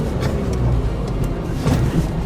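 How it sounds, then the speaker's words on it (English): A tuned Toyota Tacoma pickup's engine droning under acceleration from inside the cab, a steady loud low rumble with slight swells in pitch, no talk. "When you put your foot into it, like without even going to the floor, like it instantly jumps up in RPM."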